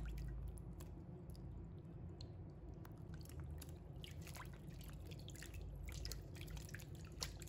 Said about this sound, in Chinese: 下手把苦瓜清洗干净